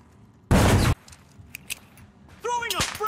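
Frag grenade blast in the video game The Finals, a single loud burst of about half a second with debris rattling afterward, then a rising whooshing game effect.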